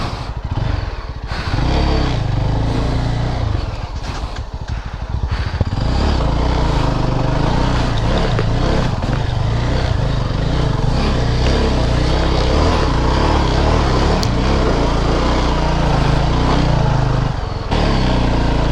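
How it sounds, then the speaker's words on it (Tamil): Yezdi adventure motorcycle with its rear tyre spinning on a muddy jungle off-road trail, the engine droning loud and close, surging and holding high revs for a long stretch. "சவதியாக இருக்குது, டயர் ஸ்பின் ஆகுது."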